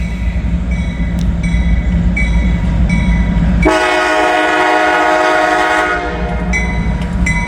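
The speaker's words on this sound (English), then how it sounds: "Big old heavy train, I bet." A big, heavy freight train hauled by an old Dash 8 locomotive rumbles past in Kentucky fog, and a loud, sustained horn blast cuts in midway for about two seconds over the steady rolling roar.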